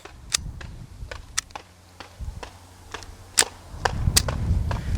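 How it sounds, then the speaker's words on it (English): A suppressed Flux Raider backpack gun fires at a steel plate rack in a video game, giving a string of sharp, irregularly spaced cracks with metallic pings over a low rumble that builds toward the end. "We're gonna shoot this plate rack real quick and hopefully it doesn't blow up in my face."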